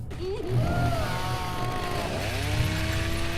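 A chainsaw runs on a film set, its engine revving loud and near, the pitch climbing and sliding down in sweeping surges before rising again.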